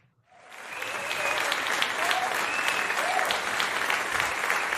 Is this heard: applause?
yes